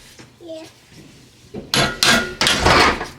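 After quiet talk, a series of loud hammer blows rings out, four or five sharp, close strikes in quick succession.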